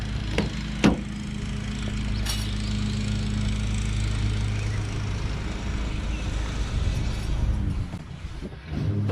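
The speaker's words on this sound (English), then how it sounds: "That's funny with the lawnmower." A lawn mower engine drones steadily and loudly throughout, with a couple of sharp knocks near the start.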